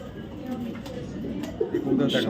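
Racer pigeons, including a bird hatched in 2025, give soft, low coos that blend into a voice speaking over them, growing a little louder toward the end.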